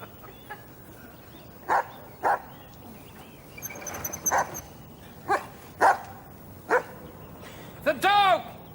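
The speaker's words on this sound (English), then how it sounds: "The dog! Can someone get the dog?" A dog barks in separate sharp bursts, roughly a half dozen spaced a second or so apart, fairly close, with a higher yelping cry at the end.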